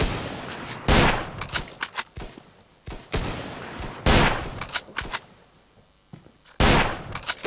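Video game gunfire from a no-scope shooter: loud bursts of rapid shots fired in several separate volleys, each cutting off sharply into quieter gaps, with no talking.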